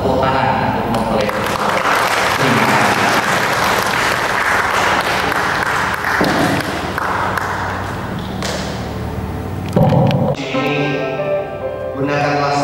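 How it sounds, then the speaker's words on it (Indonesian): A wedding crowd applauds the bride and groom. The clapping is loud and sustained and runs nearly the whole time, with some thumps, and a voice speaks over it. "Tepuk tangan untuk mempelai."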